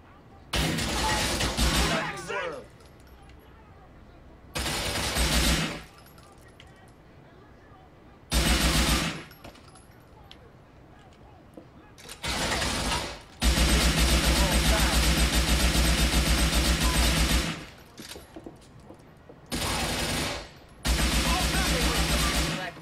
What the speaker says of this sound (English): That suppressive fire with the slow walk to the pool table, that was awesome.